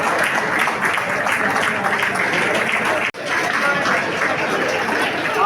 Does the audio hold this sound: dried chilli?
no